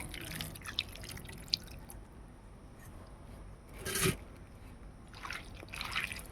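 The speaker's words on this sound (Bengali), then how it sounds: "তার সাথে আমি এখানে এক চামচ সর্ষে বেটে ভালো করে জলে দিয়ে উলে নিয়েছি এটা আমি দিয়ে দেবো" Mustard paste mixed in water poured onto small mourola fish in a bowl, a brief wet splash and trickle midway through, with faint drips and rustling before and after.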